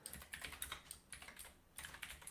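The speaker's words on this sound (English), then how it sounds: "I was doing so well typing around this microphone" Quiet bursts of typing on a computer keyboard during a live stream, rapid soft clicks in clusters with short pauses between them.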